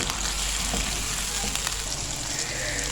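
Tomato masala fries in a covered pan for sarson ka saag, giving a steady broadband sizzle with a low rumble underneath, close and continuous, with no talking.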